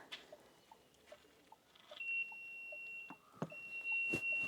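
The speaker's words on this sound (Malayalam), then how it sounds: "ഇപ്പോൾ ആ ബീപ്പ് സൗണ്ട് നിങ്ങൾ കേട്ടു." Quiet steady electronic beep tones come from a 2026 Dacia Duster, with a couple of sustained high beeps among faint clicks and handling noises in a calm setting.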